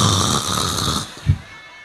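A voice imitating snoring, a long rasping drawn-out breath followed by a short snort, loud and close with a crowd murmur fading behind.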